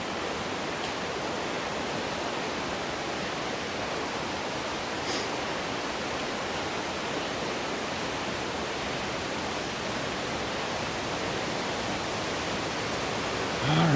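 Steady broadband roar of an Oregon waterfall heard from a trail, constant and fairly loud throughout with no break, swelling slightly at the very end.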